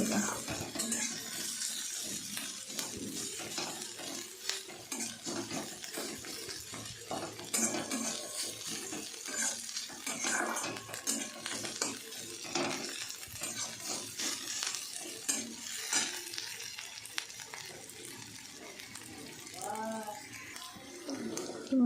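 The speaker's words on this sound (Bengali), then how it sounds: "পেঁয়াজ আর কাঁচা লঙ্কাটা একটু ভাজা হবে" Onion and green chilli frying in a pan, with a continuous soft sizzle and occasional stirring scrapes, fairly quiet and steady throughout.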